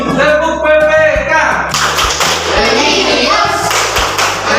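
Schoolchildren in an Indonesian classroom perform the Tepuk PPK clapping chant, rhythmic patterned claps and thumps in a steady beat mixed with children's chanting voices and background music throughout.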